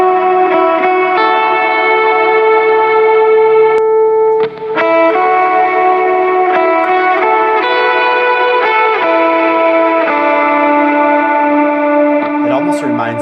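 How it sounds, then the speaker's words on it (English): An electric guitar plays direct into the recording with a compressed clean tone. Sustained chords and ringing notes change every second or so, with a touch of echo and chorus, loud and alone. "you can get really great compressed, clean tones direct that you can't get normally with an amp"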